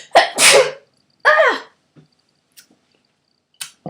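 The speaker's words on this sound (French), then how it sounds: "Je vais éternuer." A sharp, loud sneeze close by, with a short breathy burst after it, then near silence broken by faint small noises.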